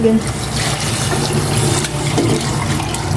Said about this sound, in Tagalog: Maglalagay na ako ng tubig